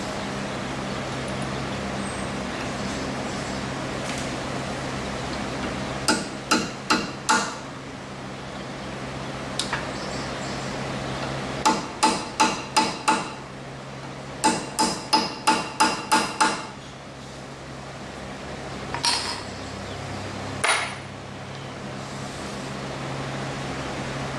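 Sharp metallic hammer blows on a punch stake a CV axle nut's edge into its groove on a 2010 Kia Soul, coming in quick bursts of three to five strikes separated by pauses, over a low background hum.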